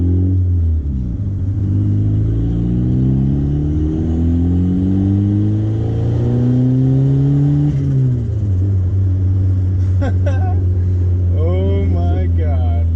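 A turbocharged Honda Accord CD5 engine revs under boost, its note climbing steadily for several seconds before dropping back to a loud idle, followed by faint speech.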